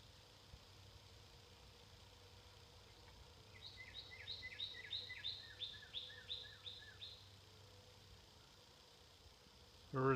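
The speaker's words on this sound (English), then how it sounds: "Birds are happy today." Birds sing beside a creek in Leroy Township, Ohio, a run of repeated chirping phrases in the middle distance over quiet background hiss, ending with a brief louder knock close by.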